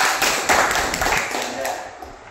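An audience at a Karnataka media association meeting in Chitradurga gives a short burst of brisk clapping that fades within about two seconds.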